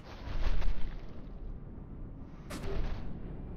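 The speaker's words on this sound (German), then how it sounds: "Ich hab geschossen." Gunshots in the video game Mirror's Edge: two heavy, booming blasts about two seconds apart, the first louder, with a rumbling tail after each and no speech.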